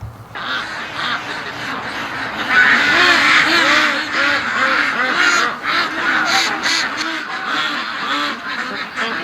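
Ducks, Muscovy among them, quack and honk continuously in a yard, a loud, close flock with overlapping calls and no pause.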